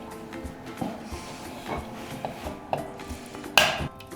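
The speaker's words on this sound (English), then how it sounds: "Crack 3 eggs in a separate bowl." Three eggs are cracked into a separate bowl in a kitchen, giving a series of sharp taps and clinks against the bowl with one louder knock near the end, close and with no voices.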